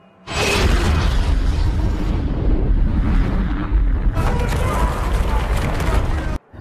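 A massive roaring nuclear explosion erupts and rumbles continuously with deep booming and crackling debris as a tunnel collapses, loud and sustained, then cuts off abruptly.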